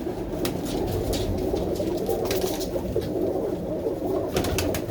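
Pigeons, an older bird among them, coo steadily and close by in a loft, with low throaty calls overlapping throughout and occasional faint wing or perch noises.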